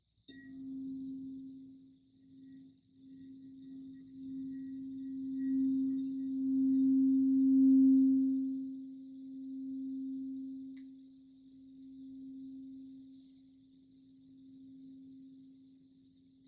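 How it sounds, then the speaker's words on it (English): A red crystal singing bowl tuned to the root chakra rings with a single pure, sustained tone that swells and fades gently over many seconds, soft and close, with no talking. "is this crystal singing bowl. And this one is red because it's tuned to the root chakra."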